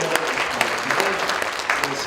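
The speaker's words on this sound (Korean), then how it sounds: "큰 박수로" Audience applause at a business cooperation conference, a steady patter of clapping hands filling the whole stretch, with a few sharper claps standing out.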